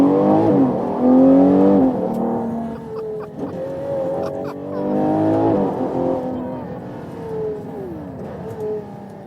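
A Ferrari Purosangue accelerates hard in sport mode, its engine note climbing and falling through repeated loud revving sweeps, heard close from inside the car.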